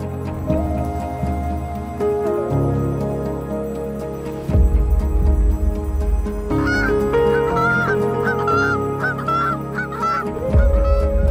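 Birds honking by a lake in a forest, with repeated goose-like honks and calls layered over each other, fairly close and loud, with no one talking.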